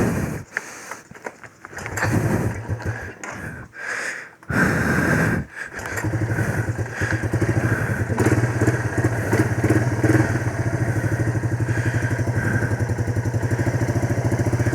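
A Yamaha YTM225 three-wheeler engine sputters and catches after a few uneven bursts, then settles into a loud, steady, rapid putter close by.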